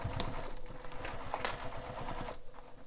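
A home sewing machine runs a long basting stitch through bowler bag fabric, its steady mechanical whir and needle chatter continuing close and fairly even without pause.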